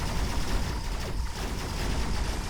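Dense, continuous rumbling barrage of artillery fire and explosions from the video game Mechabellum, loud and unbroken for the whole stretch, with no voices over it.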